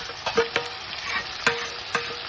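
Onions and a spice mix fry in a pan for an egg omelette curry, giving a steady close sizzle with a few sharp scraping stirs of a spoon against the pan.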